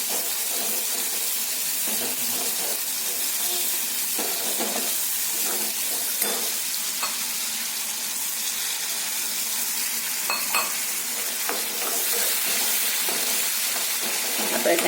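Tomatoes sauté in a pan with salt and vegetables for a Kathiyawadi potato curry, giving a steady close sizzle and hiss that runs unbroken for the whole stretch, with faint stirring scrapes.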